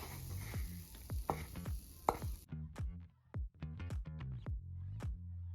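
Onions and garlic go into a pan, with a soft frying hiss at first, followed by a run of light tapping and scraping stir sounds close by; quiet overall.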